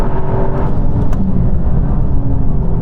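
A Toyota GR Yaris drives on a race track, its engine a loud, steady, close roar with continuous road and wind rumble and no talking.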